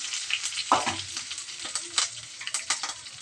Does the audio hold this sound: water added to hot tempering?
yes